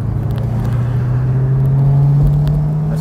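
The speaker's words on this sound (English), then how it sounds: "I'll throw in a couple of downshifts" A BMW M3 E9x with a modified exhaust drones loudly and close in a deep, steady tone that rises slightly in pitch across a few seconds of driving.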